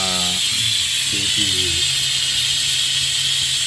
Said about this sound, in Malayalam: പുതിയ കുക്കറിൻ്റെ ആദ്യത്തെ കൂക്കൽ